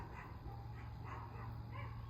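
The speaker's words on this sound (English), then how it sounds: "my neighbor's dogs are barking. She has 4 Yorkies." Four Yorkshire terriers next door give several faint, distant barks and yips in an irregular string.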